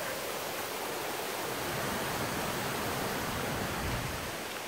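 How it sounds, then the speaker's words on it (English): Small waterfall at Manoa Falls, a steady, even rush of falling water that holds constant throughout with no voices. "Smaller waterfall hidden behind there."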